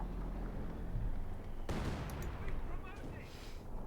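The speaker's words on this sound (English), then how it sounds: "Got more explosions, more death." A sharp blast hits midway through in the game Company of Heroes 2, followed by dense crackling bursts and rumbling booms, loud and continuous against a busy background of game noise.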